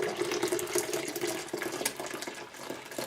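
Continuous splashing gush of Guinness beer being poured from cans into a container, close and fairly loud, a steady liquid stream with small bubbling surges and no voices.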